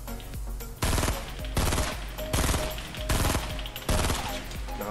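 Automatic rifle fire in the Fortnite video game comes in five loud, rapid bursts of roughly half a second each, evenly spaced with brief gaps of quieter background between them.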